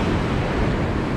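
Ocean waves at Punta Cana surge in a continuous, loud wash of surf mixed with heavy wind buffeting the microphone, with no voices over it.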